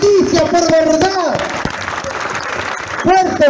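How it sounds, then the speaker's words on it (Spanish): A crowd at an outdoor march for peace in Rosario claps loudly, with sharp claps and a ringing whistle-like tone rising and falling over the clapping and some cheering voices. "Un fuerte aplauso para que Rosario escuche"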